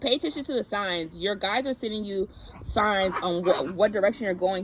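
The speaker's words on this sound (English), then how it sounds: "I'm sorry for my dogs." Dogs bark indoors in short bursts, sitting beneath a continuous stretch of steady talking that dominates the foreground throughout.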